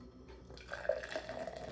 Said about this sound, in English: so let's try to pour this. I dented the hell out of the top of this can